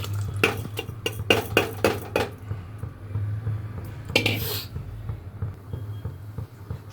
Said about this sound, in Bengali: এবারে চাল দিচ্ছি।